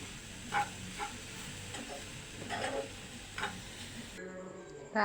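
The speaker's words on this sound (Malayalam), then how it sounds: "നമ്മുടെ ചക്കക്കുരു കൂടി അതിലേക്ക് ആഡ് ചെയ്ത് കൊടുക്കാം. എന്നിട്ട് ഇളക്കി എടുക്കാം കേട്ടോ." Jackfruit seeds stirred into a mixture in a pan for laddu give quiet scraping spoon strokes over a soft sizzle. The strokes come at irregular intervals, close by and low in level.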